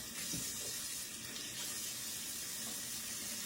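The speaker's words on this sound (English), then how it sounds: "I'm going to wash my hands real quick" Hands are washed under a running kitchen tap, a steady close splashing stream of water that runs continuously, with no talking.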